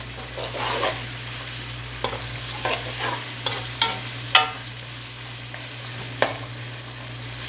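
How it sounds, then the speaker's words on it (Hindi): Rice for jaggery rice frying over a high flame, a loud steady sizzle with repeated spatula scrapes and clinks against the pot at an irregular rhythm throughout; no voices. "चूल्हे की फ्लेम जो है थोड़ी तेज़ कर देंगे, तेज़ फ्लेम पे ही इसको थोड़ा सा भूनते हैं"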